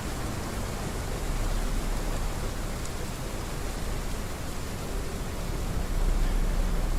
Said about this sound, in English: And this rain needs to stop, please. It's too loud.